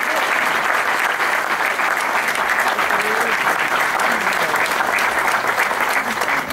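Sustained applause from an audience after a dance performance at a stage event, dense and steady clapping at close range that holds evenly throughout with no pauses.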